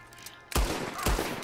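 Gunfire in Red Dead Redemption 2: two sharp, loud gunshots about half a second apart, each with a booming tail, close by.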